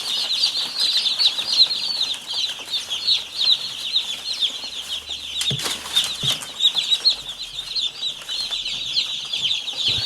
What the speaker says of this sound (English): First 100 chicks, they come 100 to a crate, and you can just gently